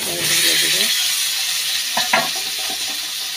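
Radish and potato pieces dropped into hot oil with whole cumin seeds, a steady bright sizzle of frying with a brief clatter of stirring in the pan partway through.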